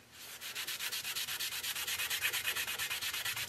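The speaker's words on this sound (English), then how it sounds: "I don't think just rubbing it with Brasso is gonna work" Brasso polish is rubbed by hand onto an antique brass and copper fire extinguisher, making a quiet, close, rhythmic back-and-forth scrubbing with even strokes about ten times every few seconds.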